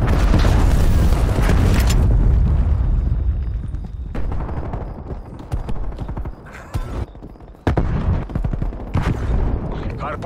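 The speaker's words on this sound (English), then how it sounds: "Enemy cruise missile launch detected." Cruise missile strikes in Call of Duty: Black Ops Cold War on the Nuketown '84 map: a heavy rumbling explosion for about two seconds, then scattered booms and rapid gunfire bursts, with intermittent in-game voice lines.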